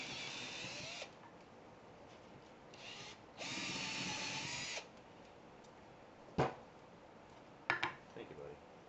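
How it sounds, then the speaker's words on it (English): A power drill whirs in several short bursts, loud and close, boring holes through wood for a cigar box guitar, separated by pauses with a few sharp knocks and clatters. "We're going to drill 3 holes"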